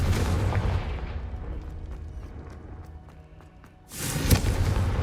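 A Confringo spell explosion from Hogwarts Legacy bursts out in a loud, broad boom after a stretch of low rumbling ambience and fades into a sustained roar.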